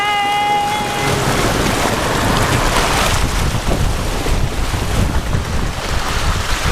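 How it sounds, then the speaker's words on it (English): A vehicle crosses a river, with water rushing and splashing loudly and steadily for several seconds amid wind noise and a brief tonal squeal at the start. "That was a proper river crossing."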